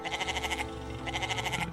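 A sheep in an animated Tamil children's story bleats in two quick, trembling bursts separated by a short pause, moderately loud over a steady background hum.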